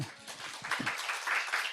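Church congregation at a Monday revival service breaks into applause, a moderate wash of clapping that builds after a brief murmur and continues steadily, somewhat distant.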